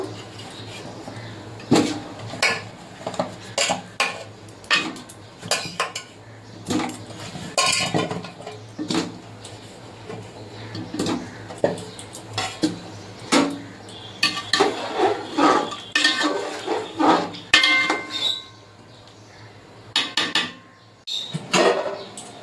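Potatoes going into a cooking pot for chicken biryani, with repeated clinks and knocks of utensils and metal cookware, uneven close clattering bursts through a quiet kitchen background.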